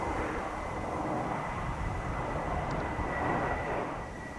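Aer Lingus airliner arriving from Dublin makes a faint, distant, steady engine rumble with a thin whine on top, alone and even throughout.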